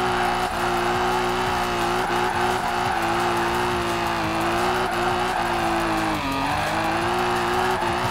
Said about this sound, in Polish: Ależ brzmi ten samochód.